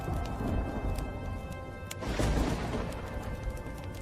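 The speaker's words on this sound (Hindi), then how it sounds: "आसमान में काले बादल छा जाते हैं और जोर जोर से बिजली कड़कने लगती है" A thunderstorm with dark clouds and crackling lightning, a rumbling roll of thunder swelling midway over a steady wash of rain, fairly loud and with no voices.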